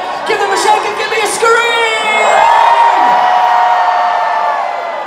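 Party crowd in a Brighton venue screaming and cheering loudly, a dense sustained roar of many voices with whoops rising and swelling, close and continuous throughout.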